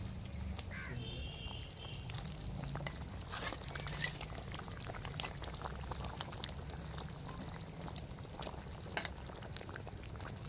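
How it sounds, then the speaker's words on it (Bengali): Rohu fish curry gravy with tomato simmering in a pot, a soft bubbling and faint trickling under low background noise, with a few brief louder splashes, no speech. "ঝোলটা ফুটে উঠেছে"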